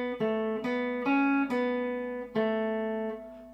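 The opening bar of a song played on guitar, five clean plucked notes moving between a high and a low note, close and fairly soft, each left ringing, with no speech.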